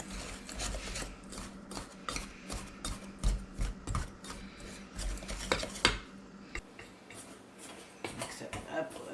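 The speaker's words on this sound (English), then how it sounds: "get the butter off the pastry blender" A pastry blender cuts butter into sweet potato biscuit dough in a bowl, with repeated rasping, rubbing strokes and metal taps against the bowl while a person talks over it.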